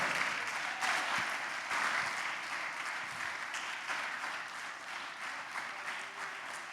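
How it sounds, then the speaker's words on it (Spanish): Sustained crowd applause from a church congregation during a sermon, a steady wash of many hands clapping at moderate volume that slowly tapers, with no talking over it. "¡Oh, dale un aplauso!"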